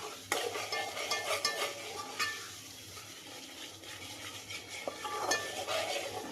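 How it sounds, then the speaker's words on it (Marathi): Coconut paste hitting hot oil in a pan of Maharashtrian chicken masala, a steady close sizzle with spoon scraping and stirring clatter throughout. "हे खोबऱ्याची पेस्ट टाकली मी आता"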